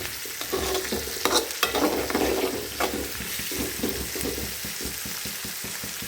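Koorka (Chinese potato) stir-fried in a pan, with steady close sizzling and frying crackle broken by repeated scraping and stirring strokes throughout.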